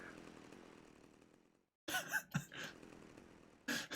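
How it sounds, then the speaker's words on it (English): A chainsaw revving in a Grand Theft Auto Vice City speedrun, a steady engine drone that cuts out briefly, then returns with sharp bursts and sputters. "Where did Tommy just pull that chainsaw from?"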